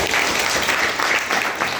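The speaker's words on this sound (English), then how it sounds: "Round of applause." A secondary-school class claps in a short, dense burst of applause, loud and close in the room, lasting under two seconds.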